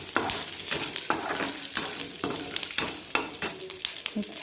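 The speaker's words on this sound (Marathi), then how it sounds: "आता ठेच्यासाठी थोडेसे शेंगदाणे भाजून घेते। शेंगदाण्यामध्येच आपण ठेच्यासाठी निवडलेला लसूण घालायचा।" Peanuts and garlic roast together in a pan for a village-style thecha, with a spoon scraping through them in quick, regular strokes over a continuous close crackle.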